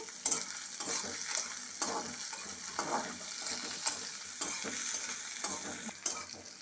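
Garlic, onion and green chillies stir-fry in hot oil, making a continuous quiet sizzle broken by repeated scrapes and taps of a spatula against the pan.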